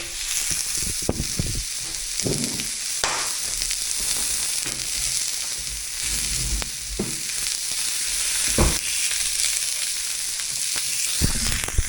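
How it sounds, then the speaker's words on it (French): Pork searing in a very hot frying pan: steady, loud sizzling and crackling throughout, with occasional sharper pops and stirring scrapes, close up and with no voices. "Le feu, il était un petit peu fort pour faire saisir la viande."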